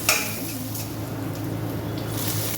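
Red amaranth greens dropped into a pan of hot oil with garlic and onion, giving a soft sizzle with a sharp clatter at the start and light utensil scraping afterward.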